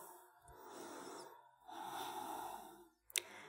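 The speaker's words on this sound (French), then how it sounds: "On va prendre quelques grandes respirations ici." Two slow, deep breaths drawn in and let out during a yoga pose, soft and close, followed by a brief sharp exhale.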